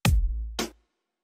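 Reggaeton-style kick and sub bass made in FL Studio: a single punchy kick with a long, deep bass tone sustaining beneath it, then a second bright percussive hit before everything stops, near and loud.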